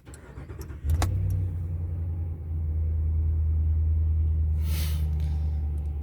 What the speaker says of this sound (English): here's the truck starting up with the muffler on inside the cab